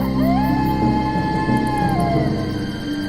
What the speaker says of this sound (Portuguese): Tremendo com os sons horríveis dos lobos, Hansel e Gretel